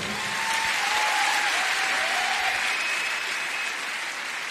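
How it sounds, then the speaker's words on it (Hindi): Loud, dense applause from a large crowd at a business awards event, a continuous roar of many hands held for several seconds, with a faint whistle-like tone sliding through it. "प्लीज जोरदार ताली"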